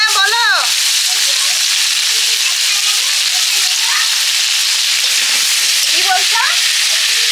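Shrimp and potatoes fry together in a pan, a loud, steady sizzle with a few stirring scrapes, while a person speaks briefly over the cooking.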